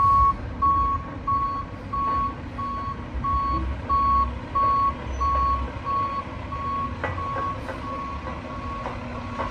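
A truck pulling out of a driveway reverses with a steady, repeating backup beep that carries over constant engine rumble and traffic noise from nearby, continuing throughout.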